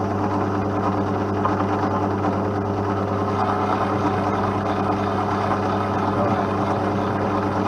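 A vertical mill with a Tree taper boring head cuts into metal, producing a steady, droning motor hum with layered tonal harmonics, constant and unbroken throughout.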